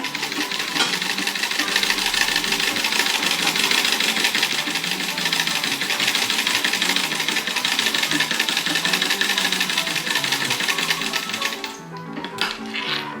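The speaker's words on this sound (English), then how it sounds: "I've threaded the machine. It's ready to go." Steady, rapid mechanical clatter of an antique treadle sewing machine running continuously, close up and fairly loud, before stopping abruptly near the end.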